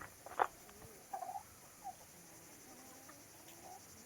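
A few short, quiet clucks from chickens at a coop in a forest, scattered across a few seconds against a faint outdoor background hiss.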